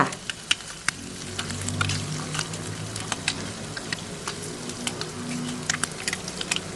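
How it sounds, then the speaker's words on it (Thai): Fish fries in oil over medium heat, a constant soft sizzle with scattered sharp pops and crackles throughout. "ทอดปลาได้แล้วนะคะ"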